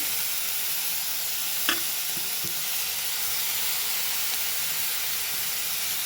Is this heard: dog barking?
no